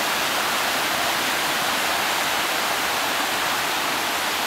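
A waterfall roars loud and constant, a broad unbroken rush of falling water close by with no pauses.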